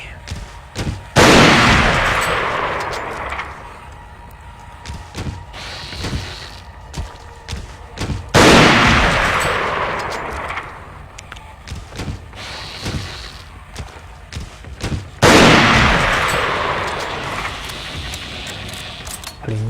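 Three heavy booming gunshots ring out in a video game, spaced several seconds apart, each with a sharp loud onset and a long decaying rumble, while quieter game sounds fill the gaps between them.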